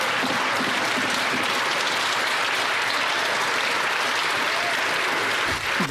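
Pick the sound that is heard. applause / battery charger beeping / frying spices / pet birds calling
applause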